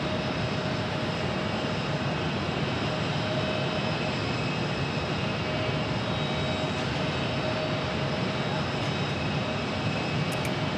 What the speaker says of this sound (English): There's that Delta A330 that just landed.